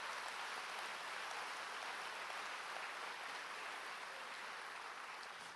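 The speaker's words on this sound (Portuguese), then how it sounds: "Pode dar um aplauso para Jesus" Church congregation applauding, a faint, even wash of clapping that continues steadily for several seconds without a break, heard from a distance with no voices over it.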